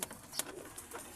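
A racing pigeon back from a derby gives a few soft, faint coos, brief and alone against a quiet background.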